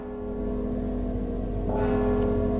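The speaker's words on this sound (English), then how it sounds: "Don't you hear the bell?" A sustained, resonant bell tolls with a long ringing hum in the stealth video game Mark of the Ninja, loud and steady with a brighter strike near the end and no talking.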